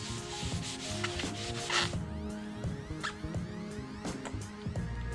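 Hand rubbing down the surface of a 21x7x10 front tire during a spine install, a steady dense scrubbing and squeaking texture with a few sharper scrapes, continuous and fairly close.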